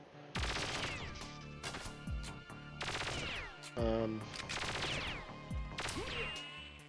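Enemy gunfire in Perfect Dark on the N64, several loud bursts of shots with ringing, whip-like tails spaced across the stretch, near and sharp, with some chatter mixed in.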